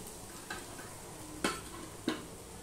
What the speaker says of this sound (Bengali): দেখো পেঁয়াজ রসুনটা সুন্দর করে লাল লাল হয়ে ভাজা হয়ে গেছে